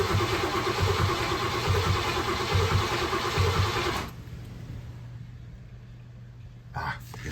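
A station wagon engine runs with a loud, rough exhaust, a steady rumble with a pulsing low throb for about four seconds before cutting out, leaving quiet background and a brief knock near the end.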